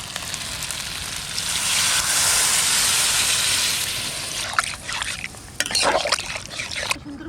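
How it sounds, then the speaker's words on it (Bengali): Water pours into a pan of braising desi chicken curry, a steady loud rushing hiss that swells and then gives way to sputtering sizzles and crackles. "আচ্ছা এবার জল দিয়ে দিই"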